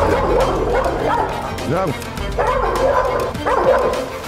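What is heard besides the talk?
Cane Corso dog barking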